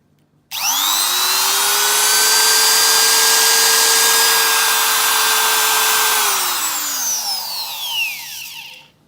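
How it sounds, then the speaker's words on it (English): A Chinese spindle motor starts abruptly and runs with a loud, steady whine, then spins down with a descending pitch near the end, heard up close and alone. "Chinese one runs this way."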